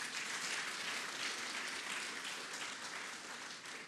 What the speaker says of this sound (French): On peut applaudir le président Macron.